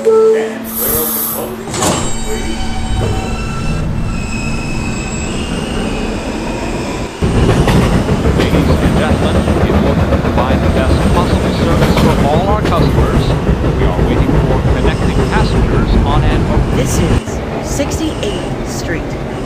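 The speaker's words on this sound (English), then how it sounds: "This is a Potato Brook bound B train." A New York City subway B train runs loudly and steadily on the Brighton line toward Brighton Beach, with rumbling wheels, squeals and clatter. An onboard announcement voice speaks over it near the start.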